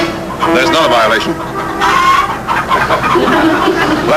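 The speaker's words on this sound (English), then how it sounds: "Live chickens on sidewalk." Live chickens clucking on a city sidewalk outside Katz's butcher shop, a steady busy stretch of poultry calls and clucks with people talking over them.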